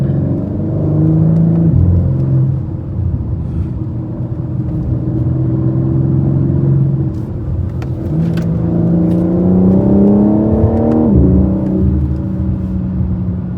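A BMW G82 M4 Competition accelerates hard on a canyon road, heard from inside the cabin: a loud turbocharged engine tone climbs through several gears, each pitch rising and then dropping briefly at the shifts.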